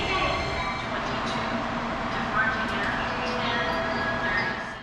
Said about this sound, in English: The station gets a really varied service, with so many types of train passing through.